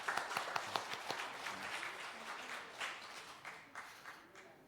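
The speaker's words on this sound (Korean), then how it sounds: "저 뒤에 있는데 우리 한번 박수 하기 원합니다." A church congregation applauds a visiting couple, with a few distinct claps at first swelling into softer, spread-out group clapping that fades gradually; fairly distant and quiet.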